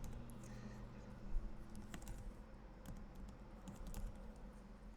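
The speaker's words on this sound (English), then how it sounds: "I gotta finish typing it out" Keys on a computer keyboard are typed during coding practice, soft irregular clicks in short bursts, close but quiet over faint room noise, with no talking.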